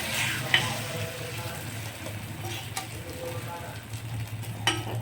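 An egg omelette fries in a pan with a steady close sizzle, broken by a few light scraping and tapping sounds from a spatula.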